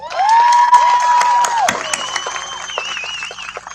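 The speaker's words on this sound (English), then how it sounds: "a round of applause for my committee, please" An audience at a Relay for Life opening ceremony in Niceville-Valparaiso, Florida, cheers and applauds its organizing committee, with high whoops and calls riding over scattered claps that fade gradually across several seconds.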